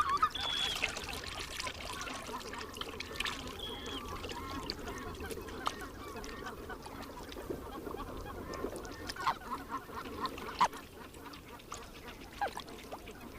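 White-fronted geese honking and calling softly in the distance in the Russian taiga, scattered cackles over a faint outdoor background with occasional splashing as they paddle.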